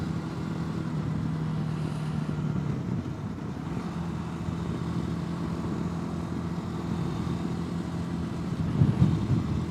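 A motorcycle is ridden on an open Texas road with the throttle held on, a steady engine drone under wind rush that swells slightly near the end, with no one speaking.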